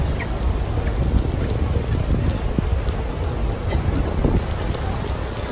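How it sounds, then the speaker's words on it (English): Heavy rain pours steadily at Medina, Saudi Arabia, a dense, continuous hiss and patter close by with no breaks, loud and unbroken for the whole stretch. "The rain is raining so hard."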